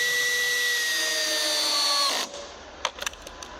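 A cordless power drill whines steadily while driving screws into ribbed metal shed siding on a Tuff Shed install, then cuts off abruptly. A few light clicks and taps follow in the near quiet.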